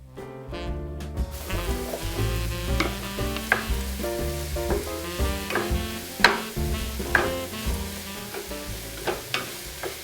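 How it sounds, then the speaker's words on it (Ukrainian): Onions and mushrooms fry together in a pan, a continuous close sizzle with frequent sharp clatters and scrapes of stirring, and no talk over it. "підсмажую на сковорідці е, цибулю разом з грибами до готовності"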